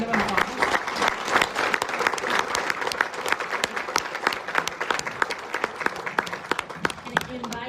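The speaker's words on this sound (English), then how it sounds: "I want to thank this incredible panel for joining us." Sustained audience applause closing a panel discussion on the 2026 World Cup and soft diplomacy, dense steady clapping with sharper individual claps, fairly loud and continuous with faint voices mixed in.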